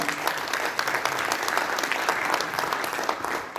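An audience at a professional meeting breaks into dense, continuous applause that holds at an even level from start to finish, with no voices rising above it.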